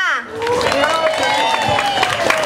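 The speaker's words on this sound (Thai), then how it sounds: "ขอเสียงปรบมือให้พี่เอกกับพี่โยด้วยค่ะ" An audience claps and cheers in a steady wash of applause, with a voice talking over it close by.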